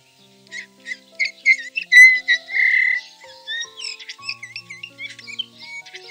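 A Eurasian bullfinch, a wintering bird, gives a series of clear whistled calls and short chirps, fairly close and alone, with soft piping notes continuing throughout.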